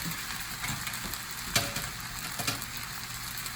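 Shrimp sizzle in a pan of drippings as they go back in, a steady close frying hiss broken by a couple of sharp clinks and stirring scrapes, with no talking.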